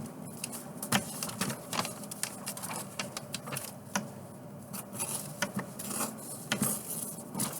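A folded sheet of paper being cut, heard as a run of close, crisp, irregular snips and rustles with no one talking.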